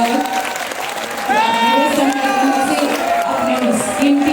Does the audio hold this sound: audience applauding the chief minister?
yes